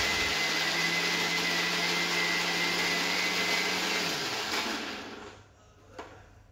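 A kitchen mixer grinder whirs loudly as it grinds roasted masala of coriander seeds, cumin, tomato and coriander leaves. The steady motor drone holds close and continuous, then winds down to a stop near the end, followed by a small clunk.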